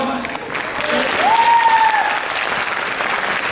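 Sustained audience applause fills a Yugadi cultural event hall, dense and steady for several seconds, with a brief tonal whistle or feedback sweep rising over the clapping.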